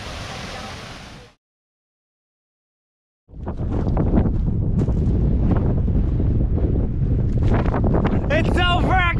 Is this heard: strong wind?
yes